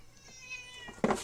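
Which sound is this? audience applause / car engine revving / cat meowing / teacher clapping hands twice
cat meowing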